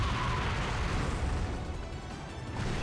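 Smart bomb detonating in Super Smash Bros. Brawl during the Subspace Emissary: a sustained, loud, rumbling blast filling the whole stretch with dense low roar, fading slightly near the end.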